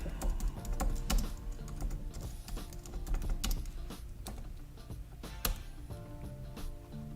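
Steady typing on a computer keyboard while entering a prompt to ChatGPT, a continuous patter of sharp key clicks over a constant background hum, close and clear with no voices.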